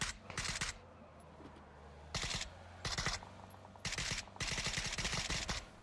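Video game gunfire in a Warhammer 40,000 match: several loud bursts of rapid automatic fire, each lasting about half a second to a second, with short pauses between them over a low ambient hum.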